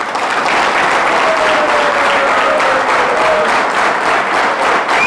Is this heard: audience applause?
yes